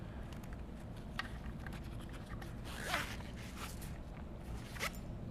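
A zipper sewn into a fabric pocket panel is pulled closed downward, making one quick, close rasping zip stroke against soft rustling of the fabric being handled.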